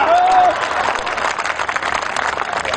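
An audience at a poetry gathering breaks into applause, a steady rush of many hands clapping at moderate loudness that fills the room for a few seconds.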